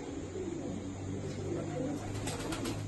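Malwai flying pigeons coo softly in a loft, a low continuous murmur of several birds somewhat distant under a steady background hum.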